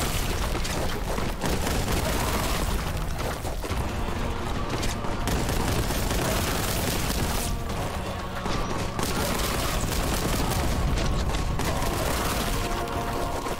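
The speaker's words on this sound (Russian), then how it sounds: "Просто оно так все прикольно взрывается." Dense, continuous gunfire and booming explosions from the video game Warhammer 40,000: Boltgun fill the whole stretch, loud and relentless with barely a pause.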